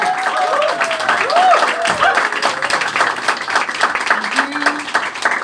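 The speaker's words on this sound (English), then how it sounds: "Give a round of applause." A stand-up comedy audience applauds a comedian taking the stage, steady clapping from a crowd with a few cheers and voices mixed in throughout.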